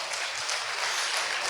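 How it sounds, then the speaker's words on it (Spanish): A church congregation clapping steadily in praise during a sermon, dense and continuous applause heard alone at moderate distance. "Dale un aplauso al Señor Jesús."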